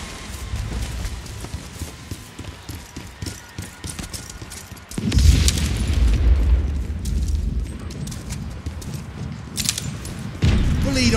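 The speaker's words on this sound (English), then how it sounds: "Airstrike incoming." In the World War 3 video game, an incoming airstrike lands as deep booming explosions. A sudden heavy blast at mid-clip gives way to sustained rumbling and scattered battlefield noise, and another loud impact comes near the end.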